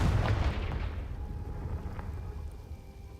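A Confringo spell blast in Hogwarts Legacy bursts loud at the start as a deep fiery explosion, then rumbles and crackles as it fades over a few seconds.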